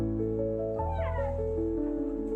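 A pet cat, a rescued former stray, meows loudly and up close in a drawn, wavering cry over a steady background hum, with no talking.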